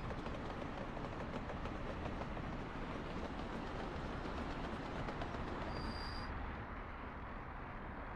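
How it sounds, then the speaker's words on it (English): A freight train loaded with 120 tons of coal rolls away in a loud, continuous rumble and clatter of wagons, with a brief high wheel squeal near the end. "120 tons of coal going on the train"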